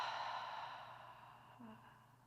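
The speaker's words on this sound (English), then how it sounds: "Exhale." A person exhales a long, soft breath during a guided breathing exercise, a close breathy rush that fades away over about two seconds.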